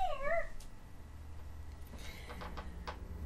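A pet cat lets out a couple of quick, close meows in a quiet room, followed by a few soft clicks and faint background hum.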